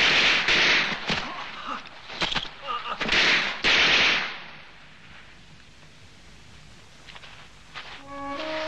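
Rapid bursts of gunfire with sharp cracks and rattling volleys in a 1969 Pacific War film, loud in the first half then fading into a quiet rumble with a brief tonal sound at the end.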